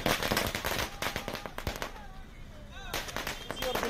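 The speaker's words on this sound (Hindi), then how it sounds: "किसान चौक पर नेताओं ने जमकर आतिशबाजी की" Firecrackers set off at a village crossroads celebration: a rapid, dense burst of sharp cracks and pops, then a lull and another crackling volley, with people talking and cheering in the background.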